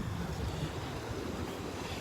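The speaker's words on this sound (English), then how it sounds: "I like it when the waves start coming back up on the shore." Ocean waves washing up the shore at Delnor-Wiggins beach: a steady, close rushing wash with low rumble and some wind buffeting on the microphone, no voices.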